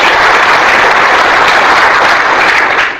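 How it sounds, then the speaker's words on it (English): A live audience at a youth communication skills workshop claps together in a loud, dense, steady burst of applause that holds for about three seconds, then begins to fade. "Just clap and make a good mark."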